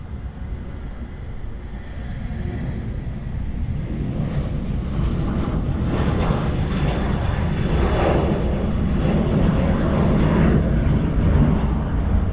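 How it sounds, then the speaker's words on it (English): Jetstar Airbus A320 departing Sydney Airport on runway 34 right, a broad jet roar that swells gradually and stays loud at a distance, with wind noise and no voices. "There we go, the departure for that Jetstar A320. Very, very smooth there."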